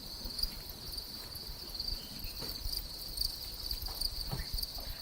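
Crickets chirp steadily in a continuous high trill on a cricket rearing farm in Kisumu, with faint scattered knocks and rustles underneath.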